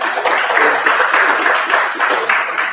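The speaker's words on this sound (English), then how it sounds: "I might give them a round of applause" An audience at a health and wellness festival applauds, a dense continuous wash of many hands clapping, fairly loud and even throughout, with no voices over it.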